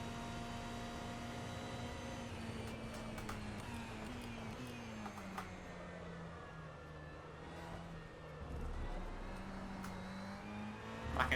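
A Ferrari GTE race car engine at Le Mans in rFactor 2, droning steadily at high revs through a long lap section, pitch rising and falling with gear changes, close and continuous with no talk.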